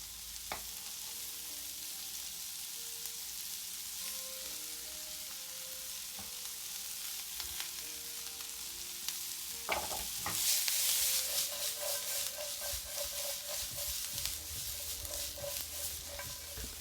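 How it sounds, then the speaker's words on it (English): Onions sizzling in a pan as the first step of breakfast fried rice, a soft steady frying hiss with scattered pops and scraping stirs, growing louder partway through. "So I'm gonna start with my onions. Cook these first."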